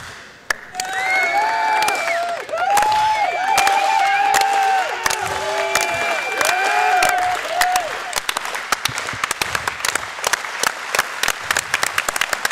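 Applause breaks out from a crowd at an outdoor Class B high school state championship track meet at Bates, with sustained clapping beneath loud whistling and cheering from spectators and announcer-like voices early on.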